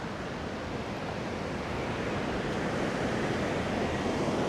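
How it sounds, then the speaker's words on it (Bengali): Dam water at Munnar in Kerala gushes out in a steady, dense roar of rushing water, close and unbroken throughout. "ড্যামের যে জলটা দেখুন কীভাবে বেরাচ্ছে"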